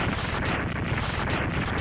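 Explosions in the Mega Man X2 video game pile up into a continuous, loud, rumbling barrage of booms and crackle, sustained without a break and with no voices over it.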